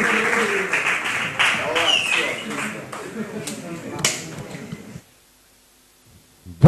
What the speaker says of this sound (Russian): Два бойца заслуживают этих аплодисментов! Надеюсь, и телезрители слышат эти овации!